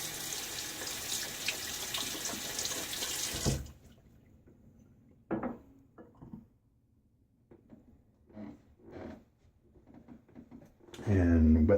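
Tap water runs steadily at close range while a face is wetted during a wet shave, then stops; scattered splashes and small wet handling sounds follow, and the running water returns loudly at the very end.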